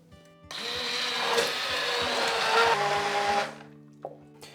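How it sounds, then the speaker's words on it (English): A blender whirring through a carrot and onion sauce: a loud steady motor roar starts abruptly, runs about three seconds, then winds down with a faint hum trailing off. "the first job is to blend it, and we want all of the lovely flavour from our carrots and onion to be absorbed within the sauce"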